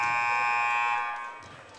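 An end-of-period buzzer at a women's college basketball game between Highland and Kennedy-King blares as one steady, loud electronic tone for about a second, then fades under gym noise.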